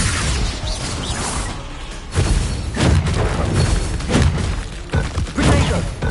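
Fire spell cast amid a Hogwarts Legacy combat scene, a run of loud whooshing bursts and booming thuds stacked over a dense rumbling game soundtrack, with no one speaking.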